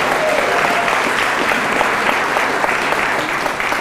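Audience at a chamber of commerce annual awards banquet clapping in a dense, steady round of applause that holds at full strength without letting up.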